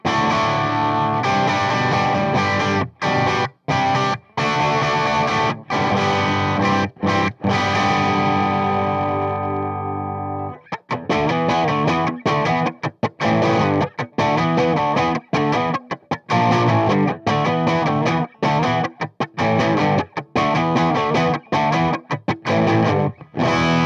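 Electric guitar played through the distortion side of an Analog Man King of Tone pedal modded to high gain red, loud saturated chords ringing out, then a choppy run of rhythmic chugging strums with brief gaps.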